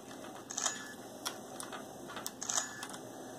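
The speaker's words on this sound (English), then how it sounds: "There's a safety switch that makes a noise as the safety is turned on and off." A safety switch on an Arduino-driven Ghostbusters proton pack prop gives a few short electronic clicks and beeps as it toggles on and off, spaced irregularly over a faint steady hum.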